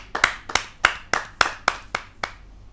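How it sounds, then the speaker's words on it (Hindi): An audience claps for a poet at a Hindi kavi sammelan poetry gathering: about eight sharp, evenly spaced claps in a quick rhythm, close and clear, with no voices. "आपकी जोरदार तालियां उस कवित्री के लिए बजे"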